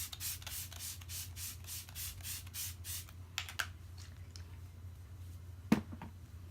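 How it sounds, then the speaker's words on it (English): Smashbox Photo Finish Primer Water setting spray is pumped onto a face in a quick series of about ten soft, close hissing bursts, followed by a few faint handling clicks. "I'm just gonna finish off with some setting spray."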